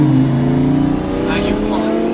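A twin-turbo Lamborghini Huracan and a McLaren 720S accelerate in a roll race, with a loud, steady engine drone rising in pitch from inside the car, under people talking.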